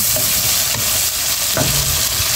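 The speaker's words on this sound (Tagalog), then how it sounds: "Bigisa muna natin ng hipon" Shrimp sauté in a hot pan with a loud, continuous sizzle, punctuated by a few scraping stirs from a utensil, close up.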